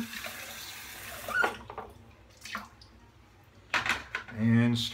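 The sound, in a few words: warm water running from tap for shaving lather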